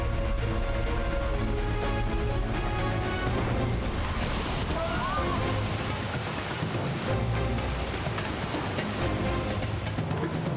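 Ocean waves used as a sound effect in a tsunami broadcast: a loud, dense rushing surf roar that swells and churns steadily, with a low rumbling undertone throughout.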